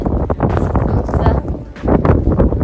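Strong gusts buffet the microphone in loud, uneven rumbles, with a person speaking partly buried beneath the wind.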